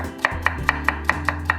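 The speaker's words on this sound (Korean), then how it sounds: "그리고 청양고추까지 채 썰어주고" A kitchen knife julienning onion and carrot on a cutting board, seven crisp, evenly spaced chops in a steady rhythm, close and clear over a low background hum.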